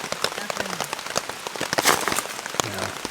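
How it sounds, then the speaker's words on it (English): Steady outdoor rain pattering on surfaces during log splitting, a dense wash of drops with scattered louder splats, fairly close and continuous, with a brief swell partway through and no speech. "if the rain stops, which sounds like it's slowing down, hopefully it'll actually stop"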